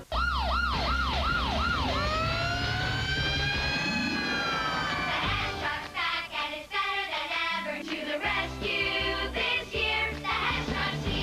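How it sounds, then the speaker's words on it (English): A toy Hess emergency truck's electronic siren wails in rapid rising and falling sweeps, then holds longer tones in a 2005 TV advert, followed by bright jingle-like music and effects. "The heroic Hess emergency truck, sirens, searchlights, and a rescue vehicle."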